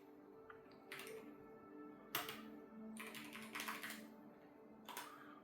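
Bursts of typing on a computer keyboard, quick clusters of close, crisp key taps separated by short pauses, fairly quiet and heard alone.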